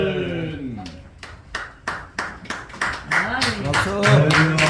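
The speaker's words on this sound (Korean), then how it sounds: "박수." A congregation at a church revival service in Pyeongtaek applauds in a burst of sharp, separate claps that quicken into scattered clapping, heard close and mixed with voices speaking over it.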